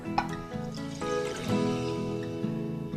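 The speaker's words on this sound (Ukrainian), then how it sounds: "На сковорідку без залишки вершкового масла вливаємо бульйон" Broth pours steadily into a frying pan, a soft continuous trickle and splash with a faint sizzle underneath.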